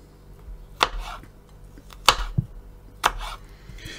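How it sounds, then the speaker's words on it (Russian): A knife chops crushed garlic on a board: three sharp, separate cuts spaced about a second apart, close and clear, with quieter board knocks between them and no talking. "Чеснок я люблю вот так вот раздавить, а потом уже нарезать."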